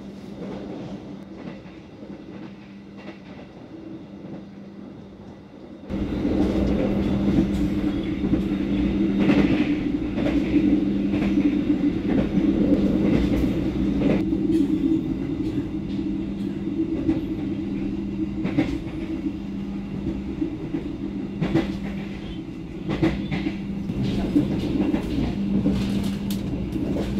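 The Argo Wilis stainless-steel passenger train rolls on its rails, heard from inside as a steady loud rumble with rhythmic wheel clicks, after a quieter opening stretch.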